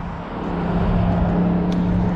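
A 2007 Lamborghini Gallardo with a 5.0L V10 pulls away, its engine drone swelling from quiet to a loud, steady hum within the first second and holding from inside the car.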